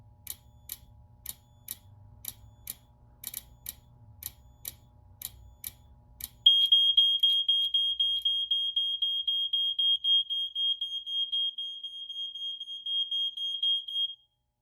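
A Notifier AFP-400 fire panel's local sounder base gives a loud, steady high-pitched electronic tone that pulses rapidly for about eight seconds. Before it, a regular ticking or clicking pattern runs over a low hum.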